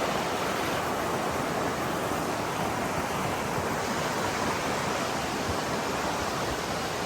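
Steady broadband rush of a creek flowing below a spot in the remote Snowbird Wilderness forest of Nantahala National Forest, North Carolina, continuous and fairly loud with no pauses or voices.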